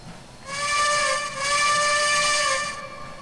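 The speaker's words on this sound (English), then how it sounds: "Most of the whistles on K&L stuff are pretty spot on." A steam locomotive whistle on the Strasburg Railroad heritage line in Trainz 2019 gives two long chime blasts with a slight dip between, clear and fairly loud over a quiet background.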